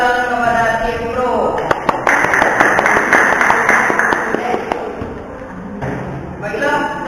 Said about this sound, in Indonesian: Kita berikan tepuk tangan kepada tim pro.